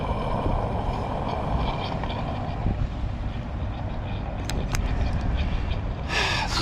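A Ford Fairlane engine runs after its first start in two years, a steady low rumble close by with faint clicks and a brief hiss at the end, no clear talk.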